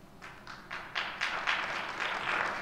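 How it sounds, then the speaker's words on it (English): Scattered clapping from an audience at a city commission meeting in Kalamazoo, starting sparse and thickening into steady applause that grows slightly louder toward the end, with no talking over it. "Please hold your applause."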